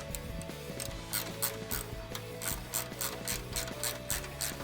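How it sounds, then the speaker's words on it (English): Steady ratchet clicking as a bolt is tightened on a 2005-2009 Mustang GT's radiator support during a grille install, quick rhythmic pawl ticks repeating close by at a moderate level with no talking. "just tighten it back down on that radiator support"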